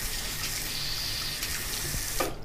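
A hot water tap runs steadily into a sink in a Prague home heated by a combination boiler, giving a continuous close-up hiss and splash of flowing water with no voices.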